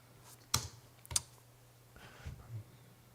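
A few scattered keystrokes on a computer keyboard, two distinct clicks followed by softer taps, close and quiet over a low steady hum.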